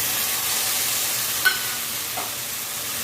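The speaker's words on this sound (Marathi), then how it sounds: "आपण याच्यामध्ये जो पास्ता बॉईल केलेला होता मी तो घालून घेऊ." Boiled pasta is added to vegetables frying in a pan, giving a steady sizzle and hiss, with a couple of brief clinks and scrapes from stirring.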